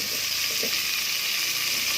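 Onion and tomato fry in hot oil, making a dense, steady, close sizzle that stays even and unbroken throughout.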